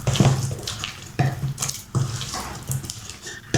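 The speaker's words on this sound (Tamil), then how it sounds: "கொஞ்சமாக நம்ம தண்ணி ஆட் பண்ணிக்கலாம்" Water poured in short bursts into banana snack batter in a home kitchen, a close splashing sound that comes in several separate pours with brief pauses between them.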